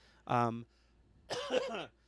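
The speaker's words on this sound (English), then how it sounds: "I know I literally just coughed" Two short coughs from a podcast host, the first sharp and voiced and the second a longer rasping cough after a brief pause, heard close and alone.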